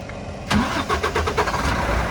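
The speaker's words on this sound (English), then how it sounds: "we're gonna start the vehicle right here" Vehicle engine cranking with the hood open, a quick whirring starter burst followed by the motor catching and settling into a steady close idle.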